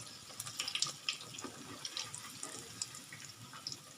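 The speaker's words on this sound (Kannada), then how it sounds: "ಇಲ್ಲಿ ನೋಡಿ ಎಣ್ಣೆಯಲ್ಲಿ ಚೆನ್ನಾಗಿ ಬೇಯ್ತಾ ಇದ್ದಾವೆ" Bread bhaji fries in oil, a soft, busy bubbling sizzle with scattered crackles and pops throughout, fairly quiet and close, with no talking.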